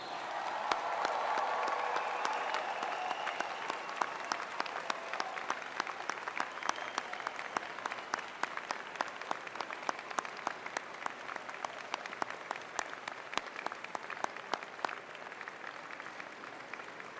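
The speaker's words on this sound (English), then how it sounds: "I ask your friends and family to join me in applauding the graduating class of 2009." Large audience applauding a graduating class at a university convocation ceremony, a broad wash of clapping that swells early and then continues with sharp scattered individual claps for many seconds.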